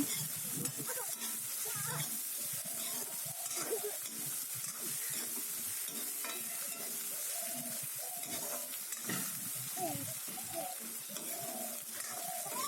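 Spices, including crushed whole cumin, sizzle steadily in hot oil for pork curry while a utensil scrapes and stirs the pan in irregular strokes.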